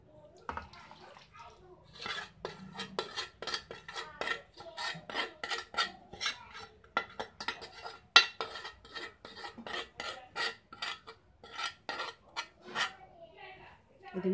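Raw mango pickle being mixed into rice in a bowl, made from three mangoes, some grated and some cut into pieces: steady scraping and rubbing strokes with light clinks, close and repetitive.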